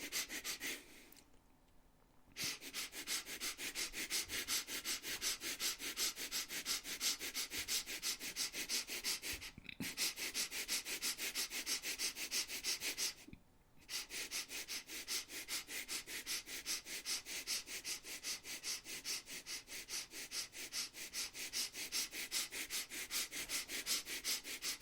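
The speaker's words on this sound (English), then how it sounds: "Continue, quick and short breath only for a minute." Rapid, short breaths taken during a guided breathing exercise for mind and happiness at home, a steady rhythmic sniffing that continues almost nonstop, with two brief pauses, close and fairly loud.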